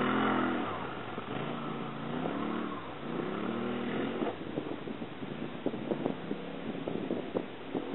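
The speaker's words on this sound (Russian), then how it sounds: "О, завелся, Бранко." An engine catches and settles into a running rumble, steady and moderately loud, with some wind noise over it and no talk.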